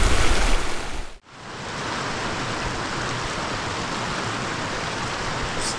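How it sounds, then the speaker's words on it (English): A Colorado river rushes past where gold is being panned. A loud burst of handling noise opens, then cuts out abruptly, followed by a steady, broadband wash of flowing water close by. "we're panning down by the river"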